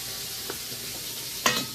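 Hot oil popping and sizzling around turkey wings being fried, a steady close crackle with a couple of sharper pops, the last one louder near the end, and no voices.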